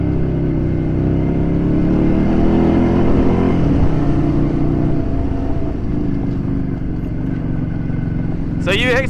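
A Ducati Scrambler motorcycle labors up a gravel road in second gear, a steady loud engine drone with wind buffeting, while a rider talks over it.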